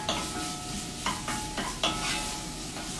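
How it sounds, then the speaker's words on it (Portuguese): Onion is stirred and gently sautéed in a pan, a steady close sizzle with several scraping spoon strokes and light clinks, no voices. "E vai mexendo só para você não perder o ponto da sua cebola."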